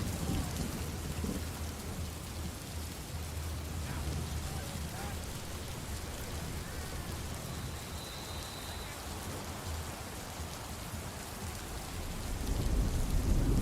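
Steady rain hisses on surfaces with distant thunder rumbling low beneath it, growing louder toward the end, no voices present.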